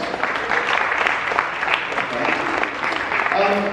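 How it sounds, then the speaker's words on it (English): Audience applause fills a press conference for a Christmas carol production, a steady dense wash of clapping with some crowd noise and a few voices mixed in, staying loud throughout. "So give them a round of applause."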